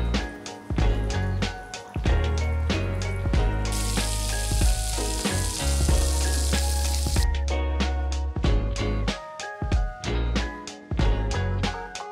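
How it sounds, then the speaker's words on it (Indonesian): Meat and other ingredients sautéing in a hot pan on a home stove, a loud steady sizzle with repeated scraping and stirring strokes close by. "Sekarang kita tumis, kita masukin aja semuanya."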